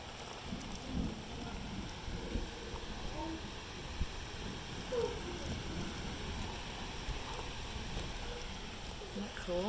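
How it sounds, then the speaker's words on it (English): Heavy rain from a summer storm front in Tennessee, a steady broad hiss heard from indoors through a window screen, with faint occasional voices in the background. "Oh, lots of rain"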